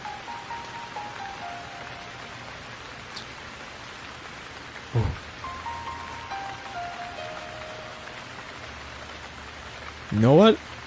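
Steady soft rain in a K-pop music video teaser, a constant even hiss running throughout with a faint low thump midway and a brief rising tone near the end.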